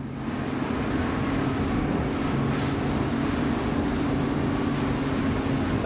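A 2017 Axopar 24 T-top boat's outboard engine runs at steady high revs, a loud continuous drone with water rush and wind as the hull accelerates onto the plane, no talking.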